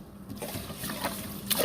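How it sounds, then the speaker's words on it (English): Water runs and sloshes over a small bowl of rice being rinsed in a home kitchen, a soft, steady trickle and swirl with a brief splashy clink near the end, fairly quiet and close. "So I'm going to rinse the rice."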